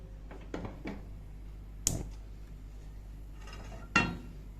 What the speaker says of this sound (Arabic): هنجيب الحلة كده ونحطها على النار